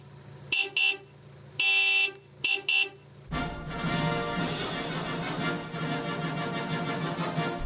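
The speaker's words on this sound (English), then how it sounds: "have a listen to this Honda's horn" Three short, thin Honda car horn toots sound close by, followed by the low rumble of the running car.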